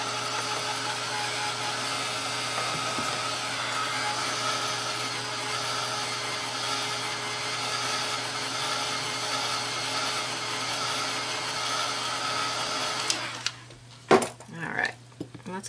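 A hair dryer blows steadily on wet acrylic paint, a loud constant whir with a low hum that runs for about thirteen seconds, then cuts off abruptly, leaving a few brief soft knocks and rustles.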